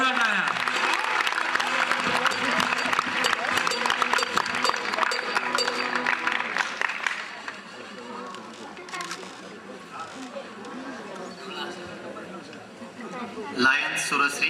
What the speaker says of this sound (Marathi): जोरदार आपण टाळ्या एकदा देऊया नचिकेतसाठी. जोरदार टाळ्या, जोरदार टाळ्या.